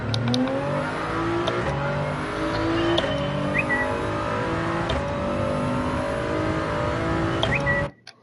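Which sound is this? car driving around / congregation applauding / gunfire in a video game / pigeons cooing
car driving around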